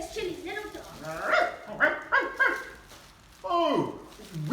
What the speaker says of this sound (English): here's Chili's little dog